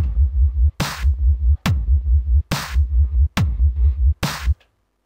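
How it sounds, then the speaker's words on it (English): Wobble bass synth in FL Studio with a tweaked oscillator, pulsing in a rhythmic wobble alongside sharp kick and snare hits in a loud electronic loop that stops abruptly at the end. "now I've tweaked the oscillator a bit to make the wobble a bit different."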